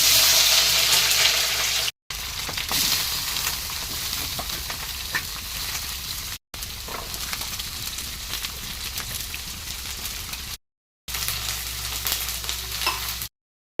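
Cauliflower, beans, carrot and peas fry in oil in a pan with a loud, continuous sizzle and crackle, broken by a few brief cuts to silence. No one talks.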